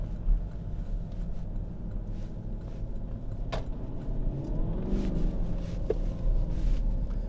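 A remapped Fiat Coupe tuned to around 450 horsepower driving along, a low steady engine rumble from inside the car that swells slightly as it accelerates, with a couple of brief clicks.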